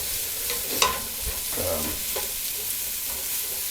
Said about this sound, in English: We're going to saute these up.